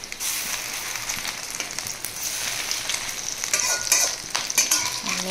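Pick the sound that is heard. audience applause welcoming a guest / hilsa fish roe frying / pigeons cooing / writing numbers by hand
hilsa fish roe frying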